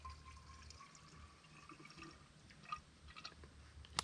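Water from a garden hose fills a plastic bottle, a faint gurgling and splashing stream with small irregular bursts, heard close and alone.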